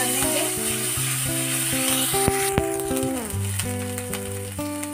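Grated ginger, curry leaves and green chillies dropped into hot oil after popping mustard seeds for a Kerala tempering, a steady close sizzle with stirring clinks and background music.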